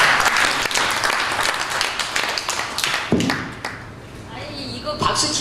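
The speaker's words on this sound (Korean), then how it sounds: "이거 박수 칠 일이 아니에요" An indoor forum audience claps together in a burst of applause that fades out, and then a few scattered claps continue as it trails off.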